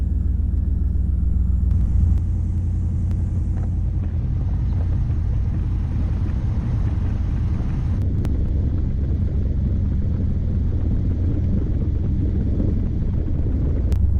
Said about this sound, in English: so I'm just gonna take it for a drive the way it is now